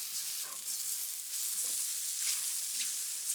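Butter sizzles in a hot pan as the base of a mushroom sauce, a bright, steady hiss close by with a few small pops, and no speech.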